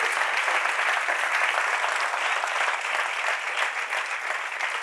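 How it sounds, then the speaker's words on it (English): A family conference audience claps continuously and evenly for the whole stretch, a dense, loud wash of applause with no voices rising above it. "Oh, that's a good place to clap."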